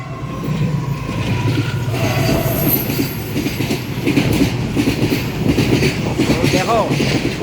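A long superfast Indian passenger train rushes past at high speed, its steady roar and rhythmic wheel clatter continuous and close, with faint wheel squeal near the end.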